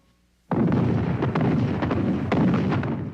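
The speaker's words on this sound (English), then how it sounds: "An artillery barrage opens the attack." Artillery barrage opening a 1975 Vietnam War attack at night: a sudden loud onset of dense, continuous rumbling blasts with several sharper cracks, sustained and heavy throughout.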